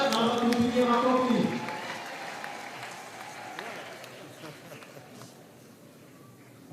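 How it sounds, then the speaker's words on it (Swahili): Applause and cheering from a standing congregation at a church celebration in Kituri, Tanzania, welcome the district commissioner; the clapping is loudest at first, then fades into quieter crowd murmur with voices. "Naomba tusimame tukaribisha mkuu wa wilaya kwa makofi ya kutosha."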